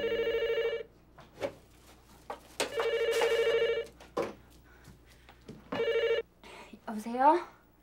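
An old-style telephone bell rings in repeated bursts with pauses between, fairly close, while people talk in Korean over the gaps.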